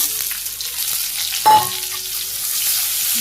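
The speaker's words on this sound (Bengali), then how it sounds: "পেঁয়াজ রসুন ভাজি হয়ে গেছে, দিয়ে দিই।" Onion and garlic sizzle steadily in hot oil, a loud, close, continuous frying hiss with one sharp clatter midway as something is stirred or added.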